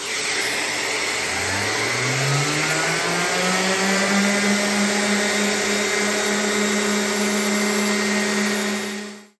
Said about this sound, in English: get out my sander, sand this smooth, and then get it ready for stain